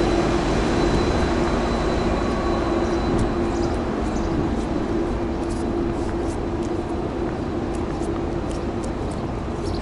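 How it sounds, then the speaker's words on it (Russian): Vorkuta-bound passenger train number 310 at Adler railway station, a steady rumbling hum of the idling or slowly moving train with faint metallic clanks, continuous and moderately near. "Вот он, воркутинский поезд. Сейчас поедет."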